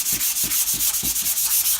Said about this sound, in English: If you're hand sanding, then 150 will be just fine.